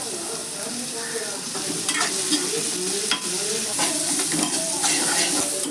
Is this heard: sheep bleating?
no